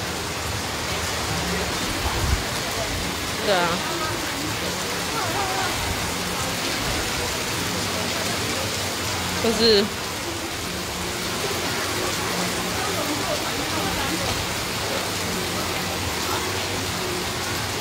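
Heavy rain pours steadily during an outdoor religious procession, a dense hissing wash throughout with brief voices and a couple of louder bumps.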